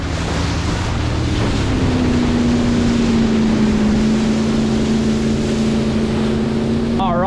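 A wakeboarding motorboat's engine drones loudly and steadily at close range, its pitch rising slightly as it pulls away, mixed with rushing water and wind buffeting.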